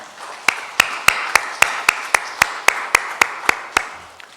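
A church congregation at a Sunday worship service claps in thanks, giving about a dozen evenly spaced, sharp claps in a steady rhythm that carry clearly over a quiet room.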